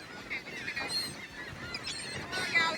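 Seagulls calling and squawking repeatedly around a group of people outdoors, harsh honking cries overlapping at moderate distance, with faint background voices.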